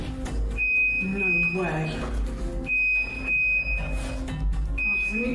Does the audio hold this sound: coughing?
no